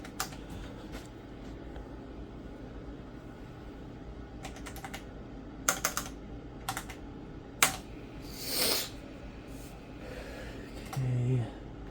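Typing on a Tandy 1000 SX computer keyboard, a steady run of quiet key clicks with a few sharper, louder strikes, over a low background hum and no talking.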